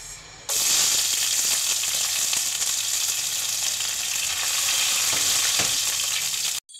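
Onion hits hot oil in a pan for ginisang ampalaya, bursting into a loud, steady sizzle that holds evenly for several seconds with faint stirring clicks, then cuts off abruptly.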